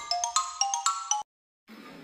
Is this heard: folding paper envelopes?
no